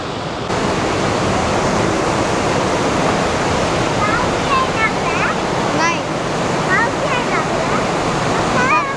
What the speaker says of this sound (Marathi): धबधब्याचं पाणी आहे.